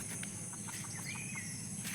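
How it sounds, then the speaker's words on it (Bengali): Chickens cluck and call softly at moderate distance along a wet, slippery village footpath beside a dense jute field, a few short clucks scattered over steady outdoor background noise. "এই যে দেখুন মুরগি দেখা যাচ্ছে দুইটা"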